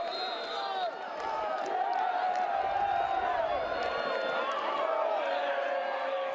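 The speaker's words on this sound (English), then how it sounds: "A very pro Western Washington crowd in attendance, and they are thrilled with what they've seen." A pro-Western Washington home crowd in Seattle celebrating a Vikings goal at the 2022 DII women's soccer championship against West Chester: a loud, sustained roar of cheering, whoops and clapping that stays steady throughout, with a commentator speaking over it.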